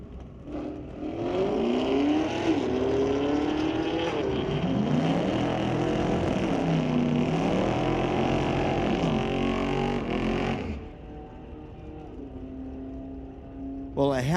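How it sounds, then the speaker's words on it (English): A 2018 Dodge and a 2022 Camaro drag race down a street-legal strip at Mission Raceway Park, a loud sustained engine roar that rises in pitch through the gears and then fades, with announcer talk under it. "that 18 Dodge was booking, doing 10:06, 136 miles an hour across the finish line"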